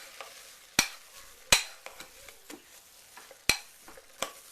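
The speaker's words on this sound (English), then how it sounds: "I'm just going to stir this up." Spoon scraping and knocking through a thick cream soap mixture in a container, a few sharp loud clinks among softer irregular stirring scrapes, close up and with no talking.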